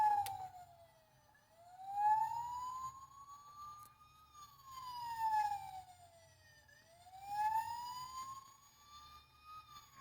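A police car siren wails in slow rising and falling sweeps, fairly faint and distant, with a low rumble of traffic beneath and no talking.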